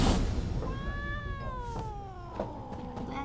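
Cat meowing in The Witcher 3 game: one long, drawn-out wavering meow, loud and close, with a faint background hum and no talk.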